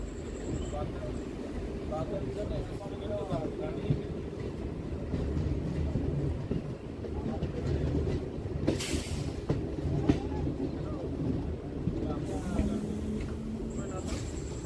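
A Hasnabad local commuter train runs on its tracks near the Barasat car shed, with a steady loud rumble of wheels and carriages, occasional clattering joints and brief squeals throughout.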